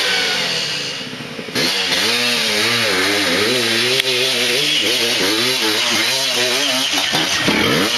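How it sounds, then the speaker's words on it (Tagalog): A loud motorcycle engine revs hard on a dirt trail, close and rising and falling in pitch in repeated surges after a brief quieter start. "Lakas talaga yung motor nito eh."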